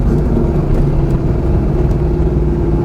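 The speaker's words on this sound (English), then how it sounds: "A nice, solid, good driving car that just makes a whole lot more noise and power than the stock version of this car." A Pontiac Trans-Am WS6, modified to be louder and more powerful than stock, drives along with a steady, loud engine drone and a rough low rumble throughout.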